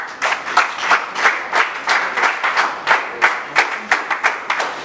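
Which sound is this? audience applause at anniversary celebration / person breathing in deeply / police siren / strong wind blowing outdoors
audience applause at anniversary celebration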